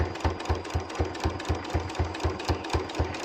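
A sewing machine stitches along the edge of a holiday placemat in a fast, even run of rhythmic mechanical thumps, close and constant, with no talking.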